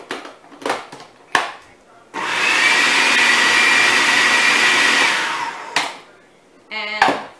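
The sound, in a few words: blender mixing raw nut pate with cumin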